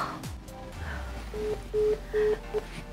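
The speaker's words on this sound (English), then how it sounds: "it's ringing." A phone call's ringback tone sounds through the handset: several short, even tone bursts repeat in a steady pattern over faint background hiss, with no talking.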